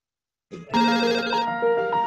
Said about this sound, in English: Every time the phone rings at our restaurant.